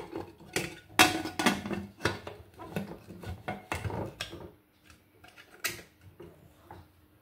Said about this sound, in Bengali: এবার ঢাকনাটা দিয়ে দিচ্ছি।